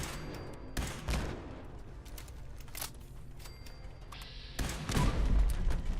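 Gunfire in Fallout 76 as turrets are shot down, a few sharp, fairly close bursts and thuds scattered over several seconds, with heavier shots clustered near the end.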